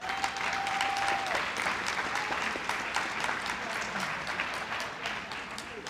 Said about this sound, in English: So I want to give a huge applause to these graduates first off, just because it takes hard work,